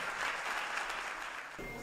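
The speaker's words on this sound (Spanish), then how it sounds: "Fuerte aplauso para Marlon López Pérez" A theatre audience at a sports awards gala gives a burst of loud, dense applause for an award winner, steady and continuous across the short stretch with no voices over it.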